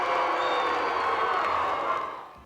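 A football crowd gathered at the old Treasury building, half cheering and half jeering, makes a sustained roar of mixed voices that fades out near the end.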